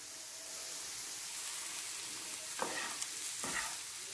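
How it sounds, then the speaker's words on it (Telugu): Pieces of boiled egg fry and are stirred in a spicy masala in a pan, giving a steady close sizzle with a few louder scraping stirs near the end. "ఇప్పుడు దీని లో ఫ్లేమ్ లో ఒక 2 మినిట్స్ ఫ్రై చేసుకుందాము।"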